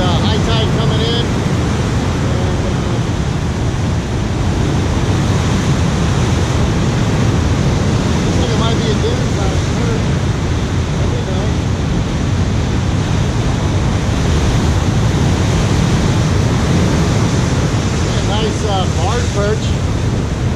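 Rough, rugged ocean surf rolls in at high tide on a beach, a loud, continuous broadband roar of breaking waves with no pauses, heard close and steady throughout.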